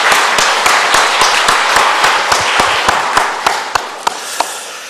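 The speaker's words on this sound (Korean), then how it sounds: "할렐루야 찬양대원들에게 격려의 박수 부탁드리겠습니다" A church congregation claps for the Hallelujah choir. The applause is dense at first, then thins to a few scattered, sharp claps as it fades out over several seconds.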